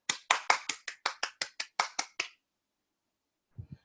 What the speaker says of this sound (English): So please, a round of applause for our Chief Marketing Officer.